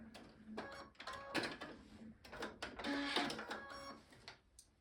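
A sewing machine stitches pieces of an Ohio Star quilt block in quiet, uneven mechanical bursts of clicking and whirring, close by.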